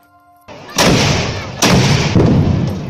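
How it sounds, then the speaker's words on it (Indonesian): Bamboo cannons fire at an Aceh Eid festival, giving three heavy, booming blasts close by. Each blast is loud and echoing, with the rumble carrying between shots. "Pesta yang bernuansa ledakan dan dentuman yang dikeluarkan dari mulut batang bambu tersebut digelar"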